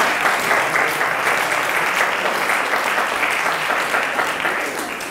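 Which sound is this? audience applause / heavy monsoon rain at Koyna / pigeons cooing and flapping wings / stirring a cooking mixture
audience applause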